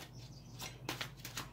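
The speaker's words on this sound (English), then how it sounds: "Shuffle this up a little bit better." Soft, quick riffling bursts of tarot cards being shuffled, several brisk flutters in an uneven rhythm, close and fairly quiet.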